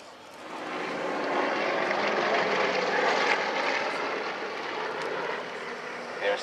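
Yak 50 aircraft of the Aerostars aerobatic team fly in arrow formation, their piston engines making a loud, steady, rasping roar. The roar swells in and holds for several seconds, then eases slightly.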